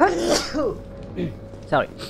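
A single sneeze from a character in the Resident Evil 3 Remake, sharp and near at the start, followed by brief spoken lines from the game's characters.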